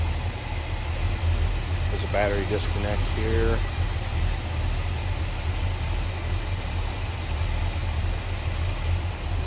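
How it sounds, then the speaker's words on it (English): A 1968 Oldsmobile 442 convertible's engine idles smoothly with a steady low rumble throughout, while someone talks briefly over it near the start. "You can see that's a nice smooth running engine"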